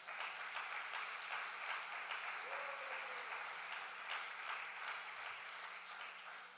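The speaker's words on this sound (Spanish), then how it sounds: "Denle esas palmas al Señor." A church congregation applauds steadily for several seconds, a dense, even wash of clapping from many hands in a large room, with a faint voice briefly audible beneath.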